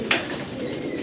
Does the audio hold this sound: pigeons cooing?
yes